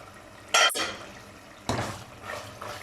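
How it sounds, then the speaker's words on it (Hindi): A metal lid comes off a cooking pot of achari mutton with a sharp clank, then a softer rattle of metal follows, close by and with no talk. "अब ढक्कन उठाकर देख लेते हैं"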